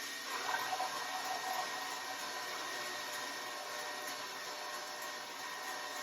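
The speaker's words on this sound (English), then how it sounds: "now, I'm going to juice my orange so that I can use, I think I said, a fourth of a cup" An electric juicer whirs steadily while juicing an orange, a continuous motor drone with a brief rougher patch at the start, close and even throughout with no talking.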